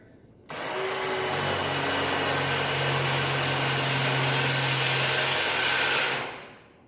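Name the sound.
power drill drilling through spot welds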